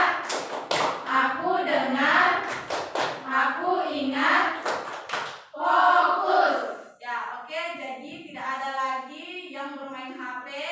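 A classroom of children doing the 'tepuk fokus' clapping routine, crisp rhythmic hand claps and taps in quick bursts, mixed with chanted voices and a teacher talking.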